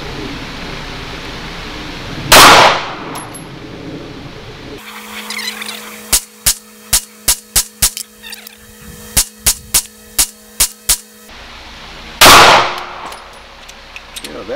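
A Mossberg MC1sc pistol firing hand-loaded rounds at an outdoor range: two isolated loud shots bracketing a quick, evenly paced string of about a dozen sharp reports, close and loud.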